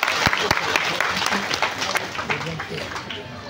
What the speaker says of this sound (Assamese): জোৰছে হাত চাপৰি মাৰিব।